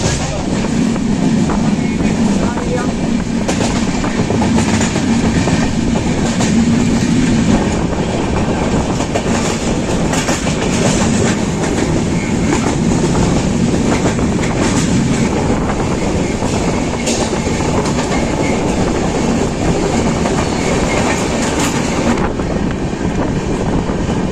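The Jammu Tawi Express, train 13151, runs between Kolkata and Gaya with a loud, continuous rumble and rattle of coaches, clickety-clack of wheels on rail joints and wind buffeting close by throughout.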